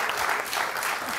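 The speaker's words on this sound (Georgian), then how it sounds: "შენ აპლოდისმენტები გამიგეთ" A television comedy show's studio audience bursts into applause, a dense, even wash of clapping throughout a brief moment.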